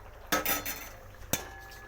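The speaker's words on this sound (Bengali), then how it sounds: "এবার মাছগুলোকে দিয়ে দেবো।" Two sharp clinks and a short scrape of a metal spoon against a cooking pot as fish pieces go in for a Bengali chara pona fish curry, close and brief, with a short pause between them.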